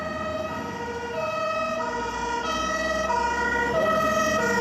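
Emergency vehicle sirens wail in continuous rising and falling tones during a factory fire in an industrial zone, loud and close, with vehicle engine rumble underneath and no speech.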